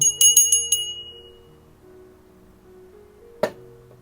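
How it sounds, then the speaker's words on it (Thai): Small bell shaken in a quick burst of bright, ringing strikes at the start, fading into a resonant tail, with one more sharp ring near the end. "สั่นกระดิ่ง"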